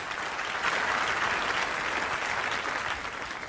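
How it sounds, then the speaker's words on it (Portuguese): Steady applause from an audience, continuous clapping at even loudness for several seconds with no talking over it. "Aplausos,"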